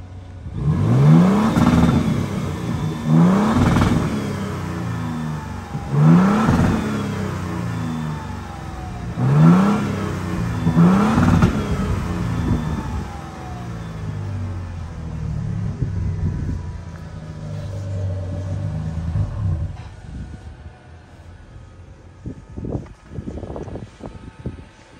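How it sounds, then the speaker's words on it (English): Engine of a 2023 Toyota Tundra TRD Pro with the i-FORCE MAX hybrid powertrain revving, several rising swells in a repeating pattern and then a lower steady running hum, close and loud, with no talk. "sometimes you'll hear the engine rev up a little higher than usual"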